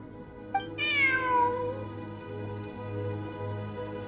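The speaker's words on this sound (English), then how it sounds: "Look, a cat." A single cat meow in the video game Genshin Impact, a clear rising-then-falling cry lasting about a second, heard over a steady low game ambience and soft background music.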